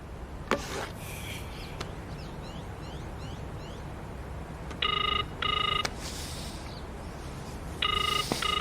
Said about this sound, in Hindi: इनामदार अब आप प्लीज फोन लगाओ